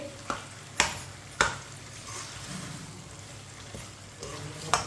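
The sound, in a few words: spoon stirring semolina halwa in pan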